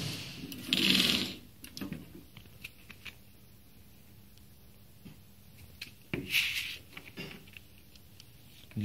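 An MZ-400AM semi-automatic vial capping and crimping machine at work, giving mechanical clatter and pattering with two louder bursts of whirring and knocking, sharp clicks between them, and no voices.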